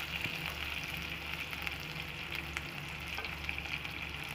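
Shallots and garlic sauté in hot oil with turmeric, a steady close sizzle and crackle that carries on without pause.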